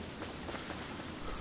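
Rain falls in modded Fallout 3 as a dense, constant patter on surfaces, moderately loud and uninterrupted for the short stretch.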